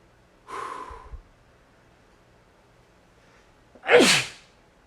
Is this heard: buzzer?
no